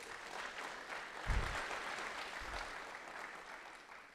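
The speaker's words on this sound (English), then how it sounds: "Give yourselves a round of applause." An audience applauds steadily, a crowd of hands clapping at a moderate, even level without letting up.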